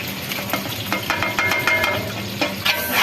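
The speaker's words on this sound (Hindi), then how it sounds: "अब हमने प्याज लिया था 3 किलो, वो इसमें शामिल कर देना है और इसको थोड़ा सुनहरा करना है।" Three kilograms of onions sizzle and crackle in hot ghee for haleem, with stirring scrapes and spatula knocks in a steady close-up frying hiss.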